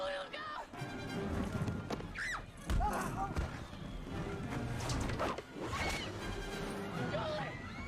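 A horse neighs and its hooves clatter in a loud movie scene, mixed with crashes, whooshes and shouting voices in a dense, chaotic soundtrack.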